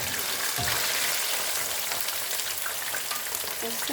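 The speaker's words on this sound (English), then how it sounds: "Finish frying the rest of the fish." Cajun-style fish fries in hot oil with a dense, steady crackling sizzle, close and constant, and a few faint clinks of utensils in the pan.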